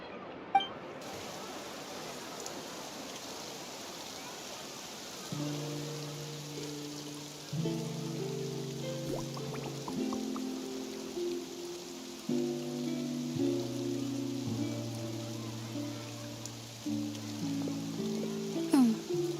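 Rain falls in the Fontaine region of the video game Genshin Impact, a steady soft patter and hiss that continues throughout, with gentle musical tones joining partway through.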